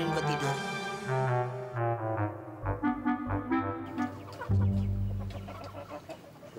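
Chickens cluck and squawk in a crowded coop, loud and close, with overlapping calls throughout and voices mixed in among the birds.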